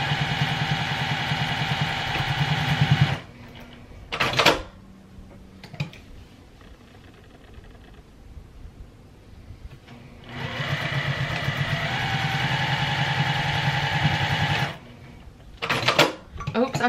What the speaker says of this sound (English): Now on this one, you are gonna want a double backstitch.